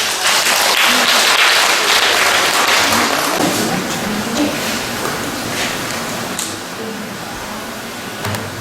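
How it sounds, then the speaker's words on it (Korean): Enthusiastic audience applause at a lecture as a speaker is introduced, dense clapping from many people that fades gradually toward the end, with a few scattered claps lingering. "박수 부탁드립니다."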